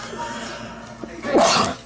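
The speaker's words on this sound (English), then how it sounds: "I'm gonna sneeze." A single close sneeze bursts out near the end, sharp and loud after a short quiet intake of breath, with no talk over it.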